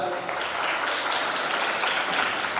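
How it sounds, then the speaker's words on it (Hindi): Audience at a radio listeners' convention in Buldhana clapping steadily and densely for a welcome, a continuous wash of applause with no pauses. "जोरदार ताली होनी चाहिए एक बार"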